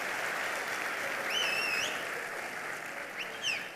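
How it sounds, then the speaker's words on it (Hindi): An audience at a talk on fraud protection for Android and iOS phones claps together in steady, sustained applause, with a few bird-like chirps and whistles over the top. "ताली बजाना है तो प्रॉपरली सब लोग ताली बजाओ"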